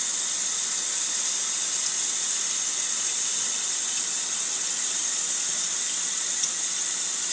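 Tap water runs steadily into a homebrewing pot, a constant hissing, splashing stream that stays even and fairly close for the whole stretch, with no talk over it.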